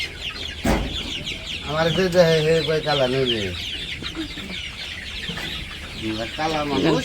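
Chickens cluck and squawk close by in a noisy farmyard, several birds calling over one another with steady background rustle.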